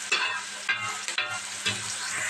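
Chopped onions and green chillies fry in a pan for a curry, sizzling steadily with several scraping stirs of a spoon against the pan. No voices.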